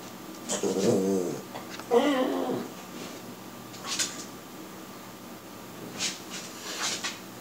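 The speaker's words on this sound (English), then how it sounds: "Don't mind my dog, he doesn't mean any harm." Dog vocalizing indoors with two short, strained, whiny growling bursts close by, followed by quieter scattered rustles and faint higher yelps against a low room hiss.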